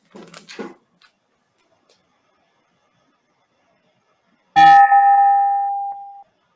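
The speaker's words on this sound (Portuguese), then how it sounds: "Eu vou pegar meu sino real. Só para nunca mais esquecer o sininho." A small hand bell is struck once, a bright clear ding that rings out and decays over about two seconds, following a short burst of rustling handling noise in an otherwise quiet room.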